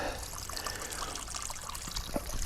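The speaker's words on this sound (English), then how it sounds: "Lots of water's gonna come out because it's still not finished draining." Water pours and trickles steadily from a freshly cut pipe on a leaking house water line, a continuous close splashing flow with a brief louder gush near the end.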